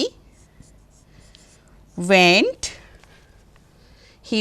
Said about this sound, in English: I'll write here this example